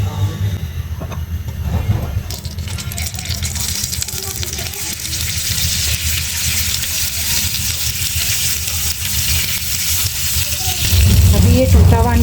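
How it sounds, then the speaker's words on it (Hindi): Eggs fry in about two tablespoons of oil in a pan with a steady, loud sizzle that holds throughout and swells toward the end, heard up close without speech. "अब मैं इसमें नमक मिर्च शामिल करूँगी और अंडे फ्राई करूँगी"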